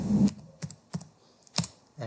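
A command is typed into AutoCAD on a computer keyboard, giving a few separate, soft key taps spaced unevenly over about two seconds. A low rumble sits underneath at the start.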